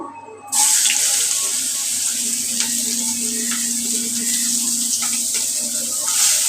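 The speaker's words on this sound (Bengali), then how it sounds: "লাল কালার করে ভেজে নিতে হবে" Chopped onions frying in a pan until reddish for a hilsa fish recipe: a bright steady sizzle starts abruptly after a short quiet moment and carries on close and even, with occasional light clinks.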